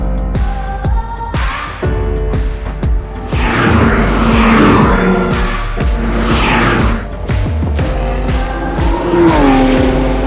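Supercars race at full speed on the NATRAX high-speed test track in India, loud engines roaring and revving through gear changes with pass-by sweeps and a brief tire squeal, close and continuous.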